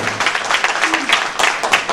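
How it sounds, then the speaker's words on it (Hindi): Enthusiastic audience clapping at a medical gathering in Lucknow, close and loud, with individual claps standing out in an uneven rhythm and a voice briefly heard underneath. "चलिए अब मैं चाहूंगा एक बार जोरदार तालियां हो जाए सभी के लिए"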